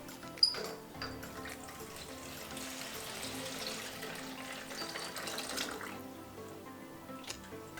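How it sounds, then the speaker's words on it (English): Water poured into a pot of matoke cooking with beef stock, a steady soft splashing flow heard for several seconds, quiet and close, with a small clink at the start. "Just add a bit more water"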